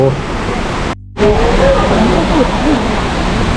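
A waterfall at a cool-climate flower garden in Rayong roars with a loud, steady broadband rush that drops out for a moment before resuming, with a voice faintly in the background.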